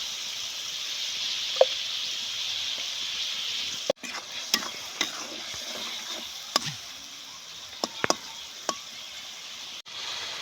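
A masala of tomato, turmeric and salt sizzles steadily in a pan, and a spoon scrapes and knocks against it at intervals. The frying hiss stays even under the sharp stirring clicks.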